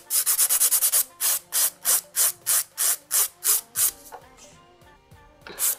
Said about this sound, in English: So this is 100 grit file I've got on the other side of this